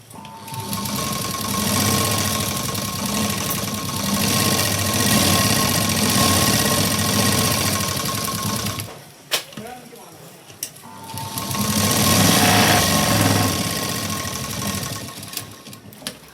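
An electric sewing machine stitches right along the edge of a garment lining sleeve, whirring in two steady runs separated by a short pause with a few clicks and handling noises.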